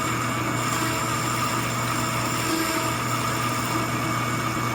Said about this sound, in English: Cutting a little faster than you normally would for a cutoff tool because this is aluminum.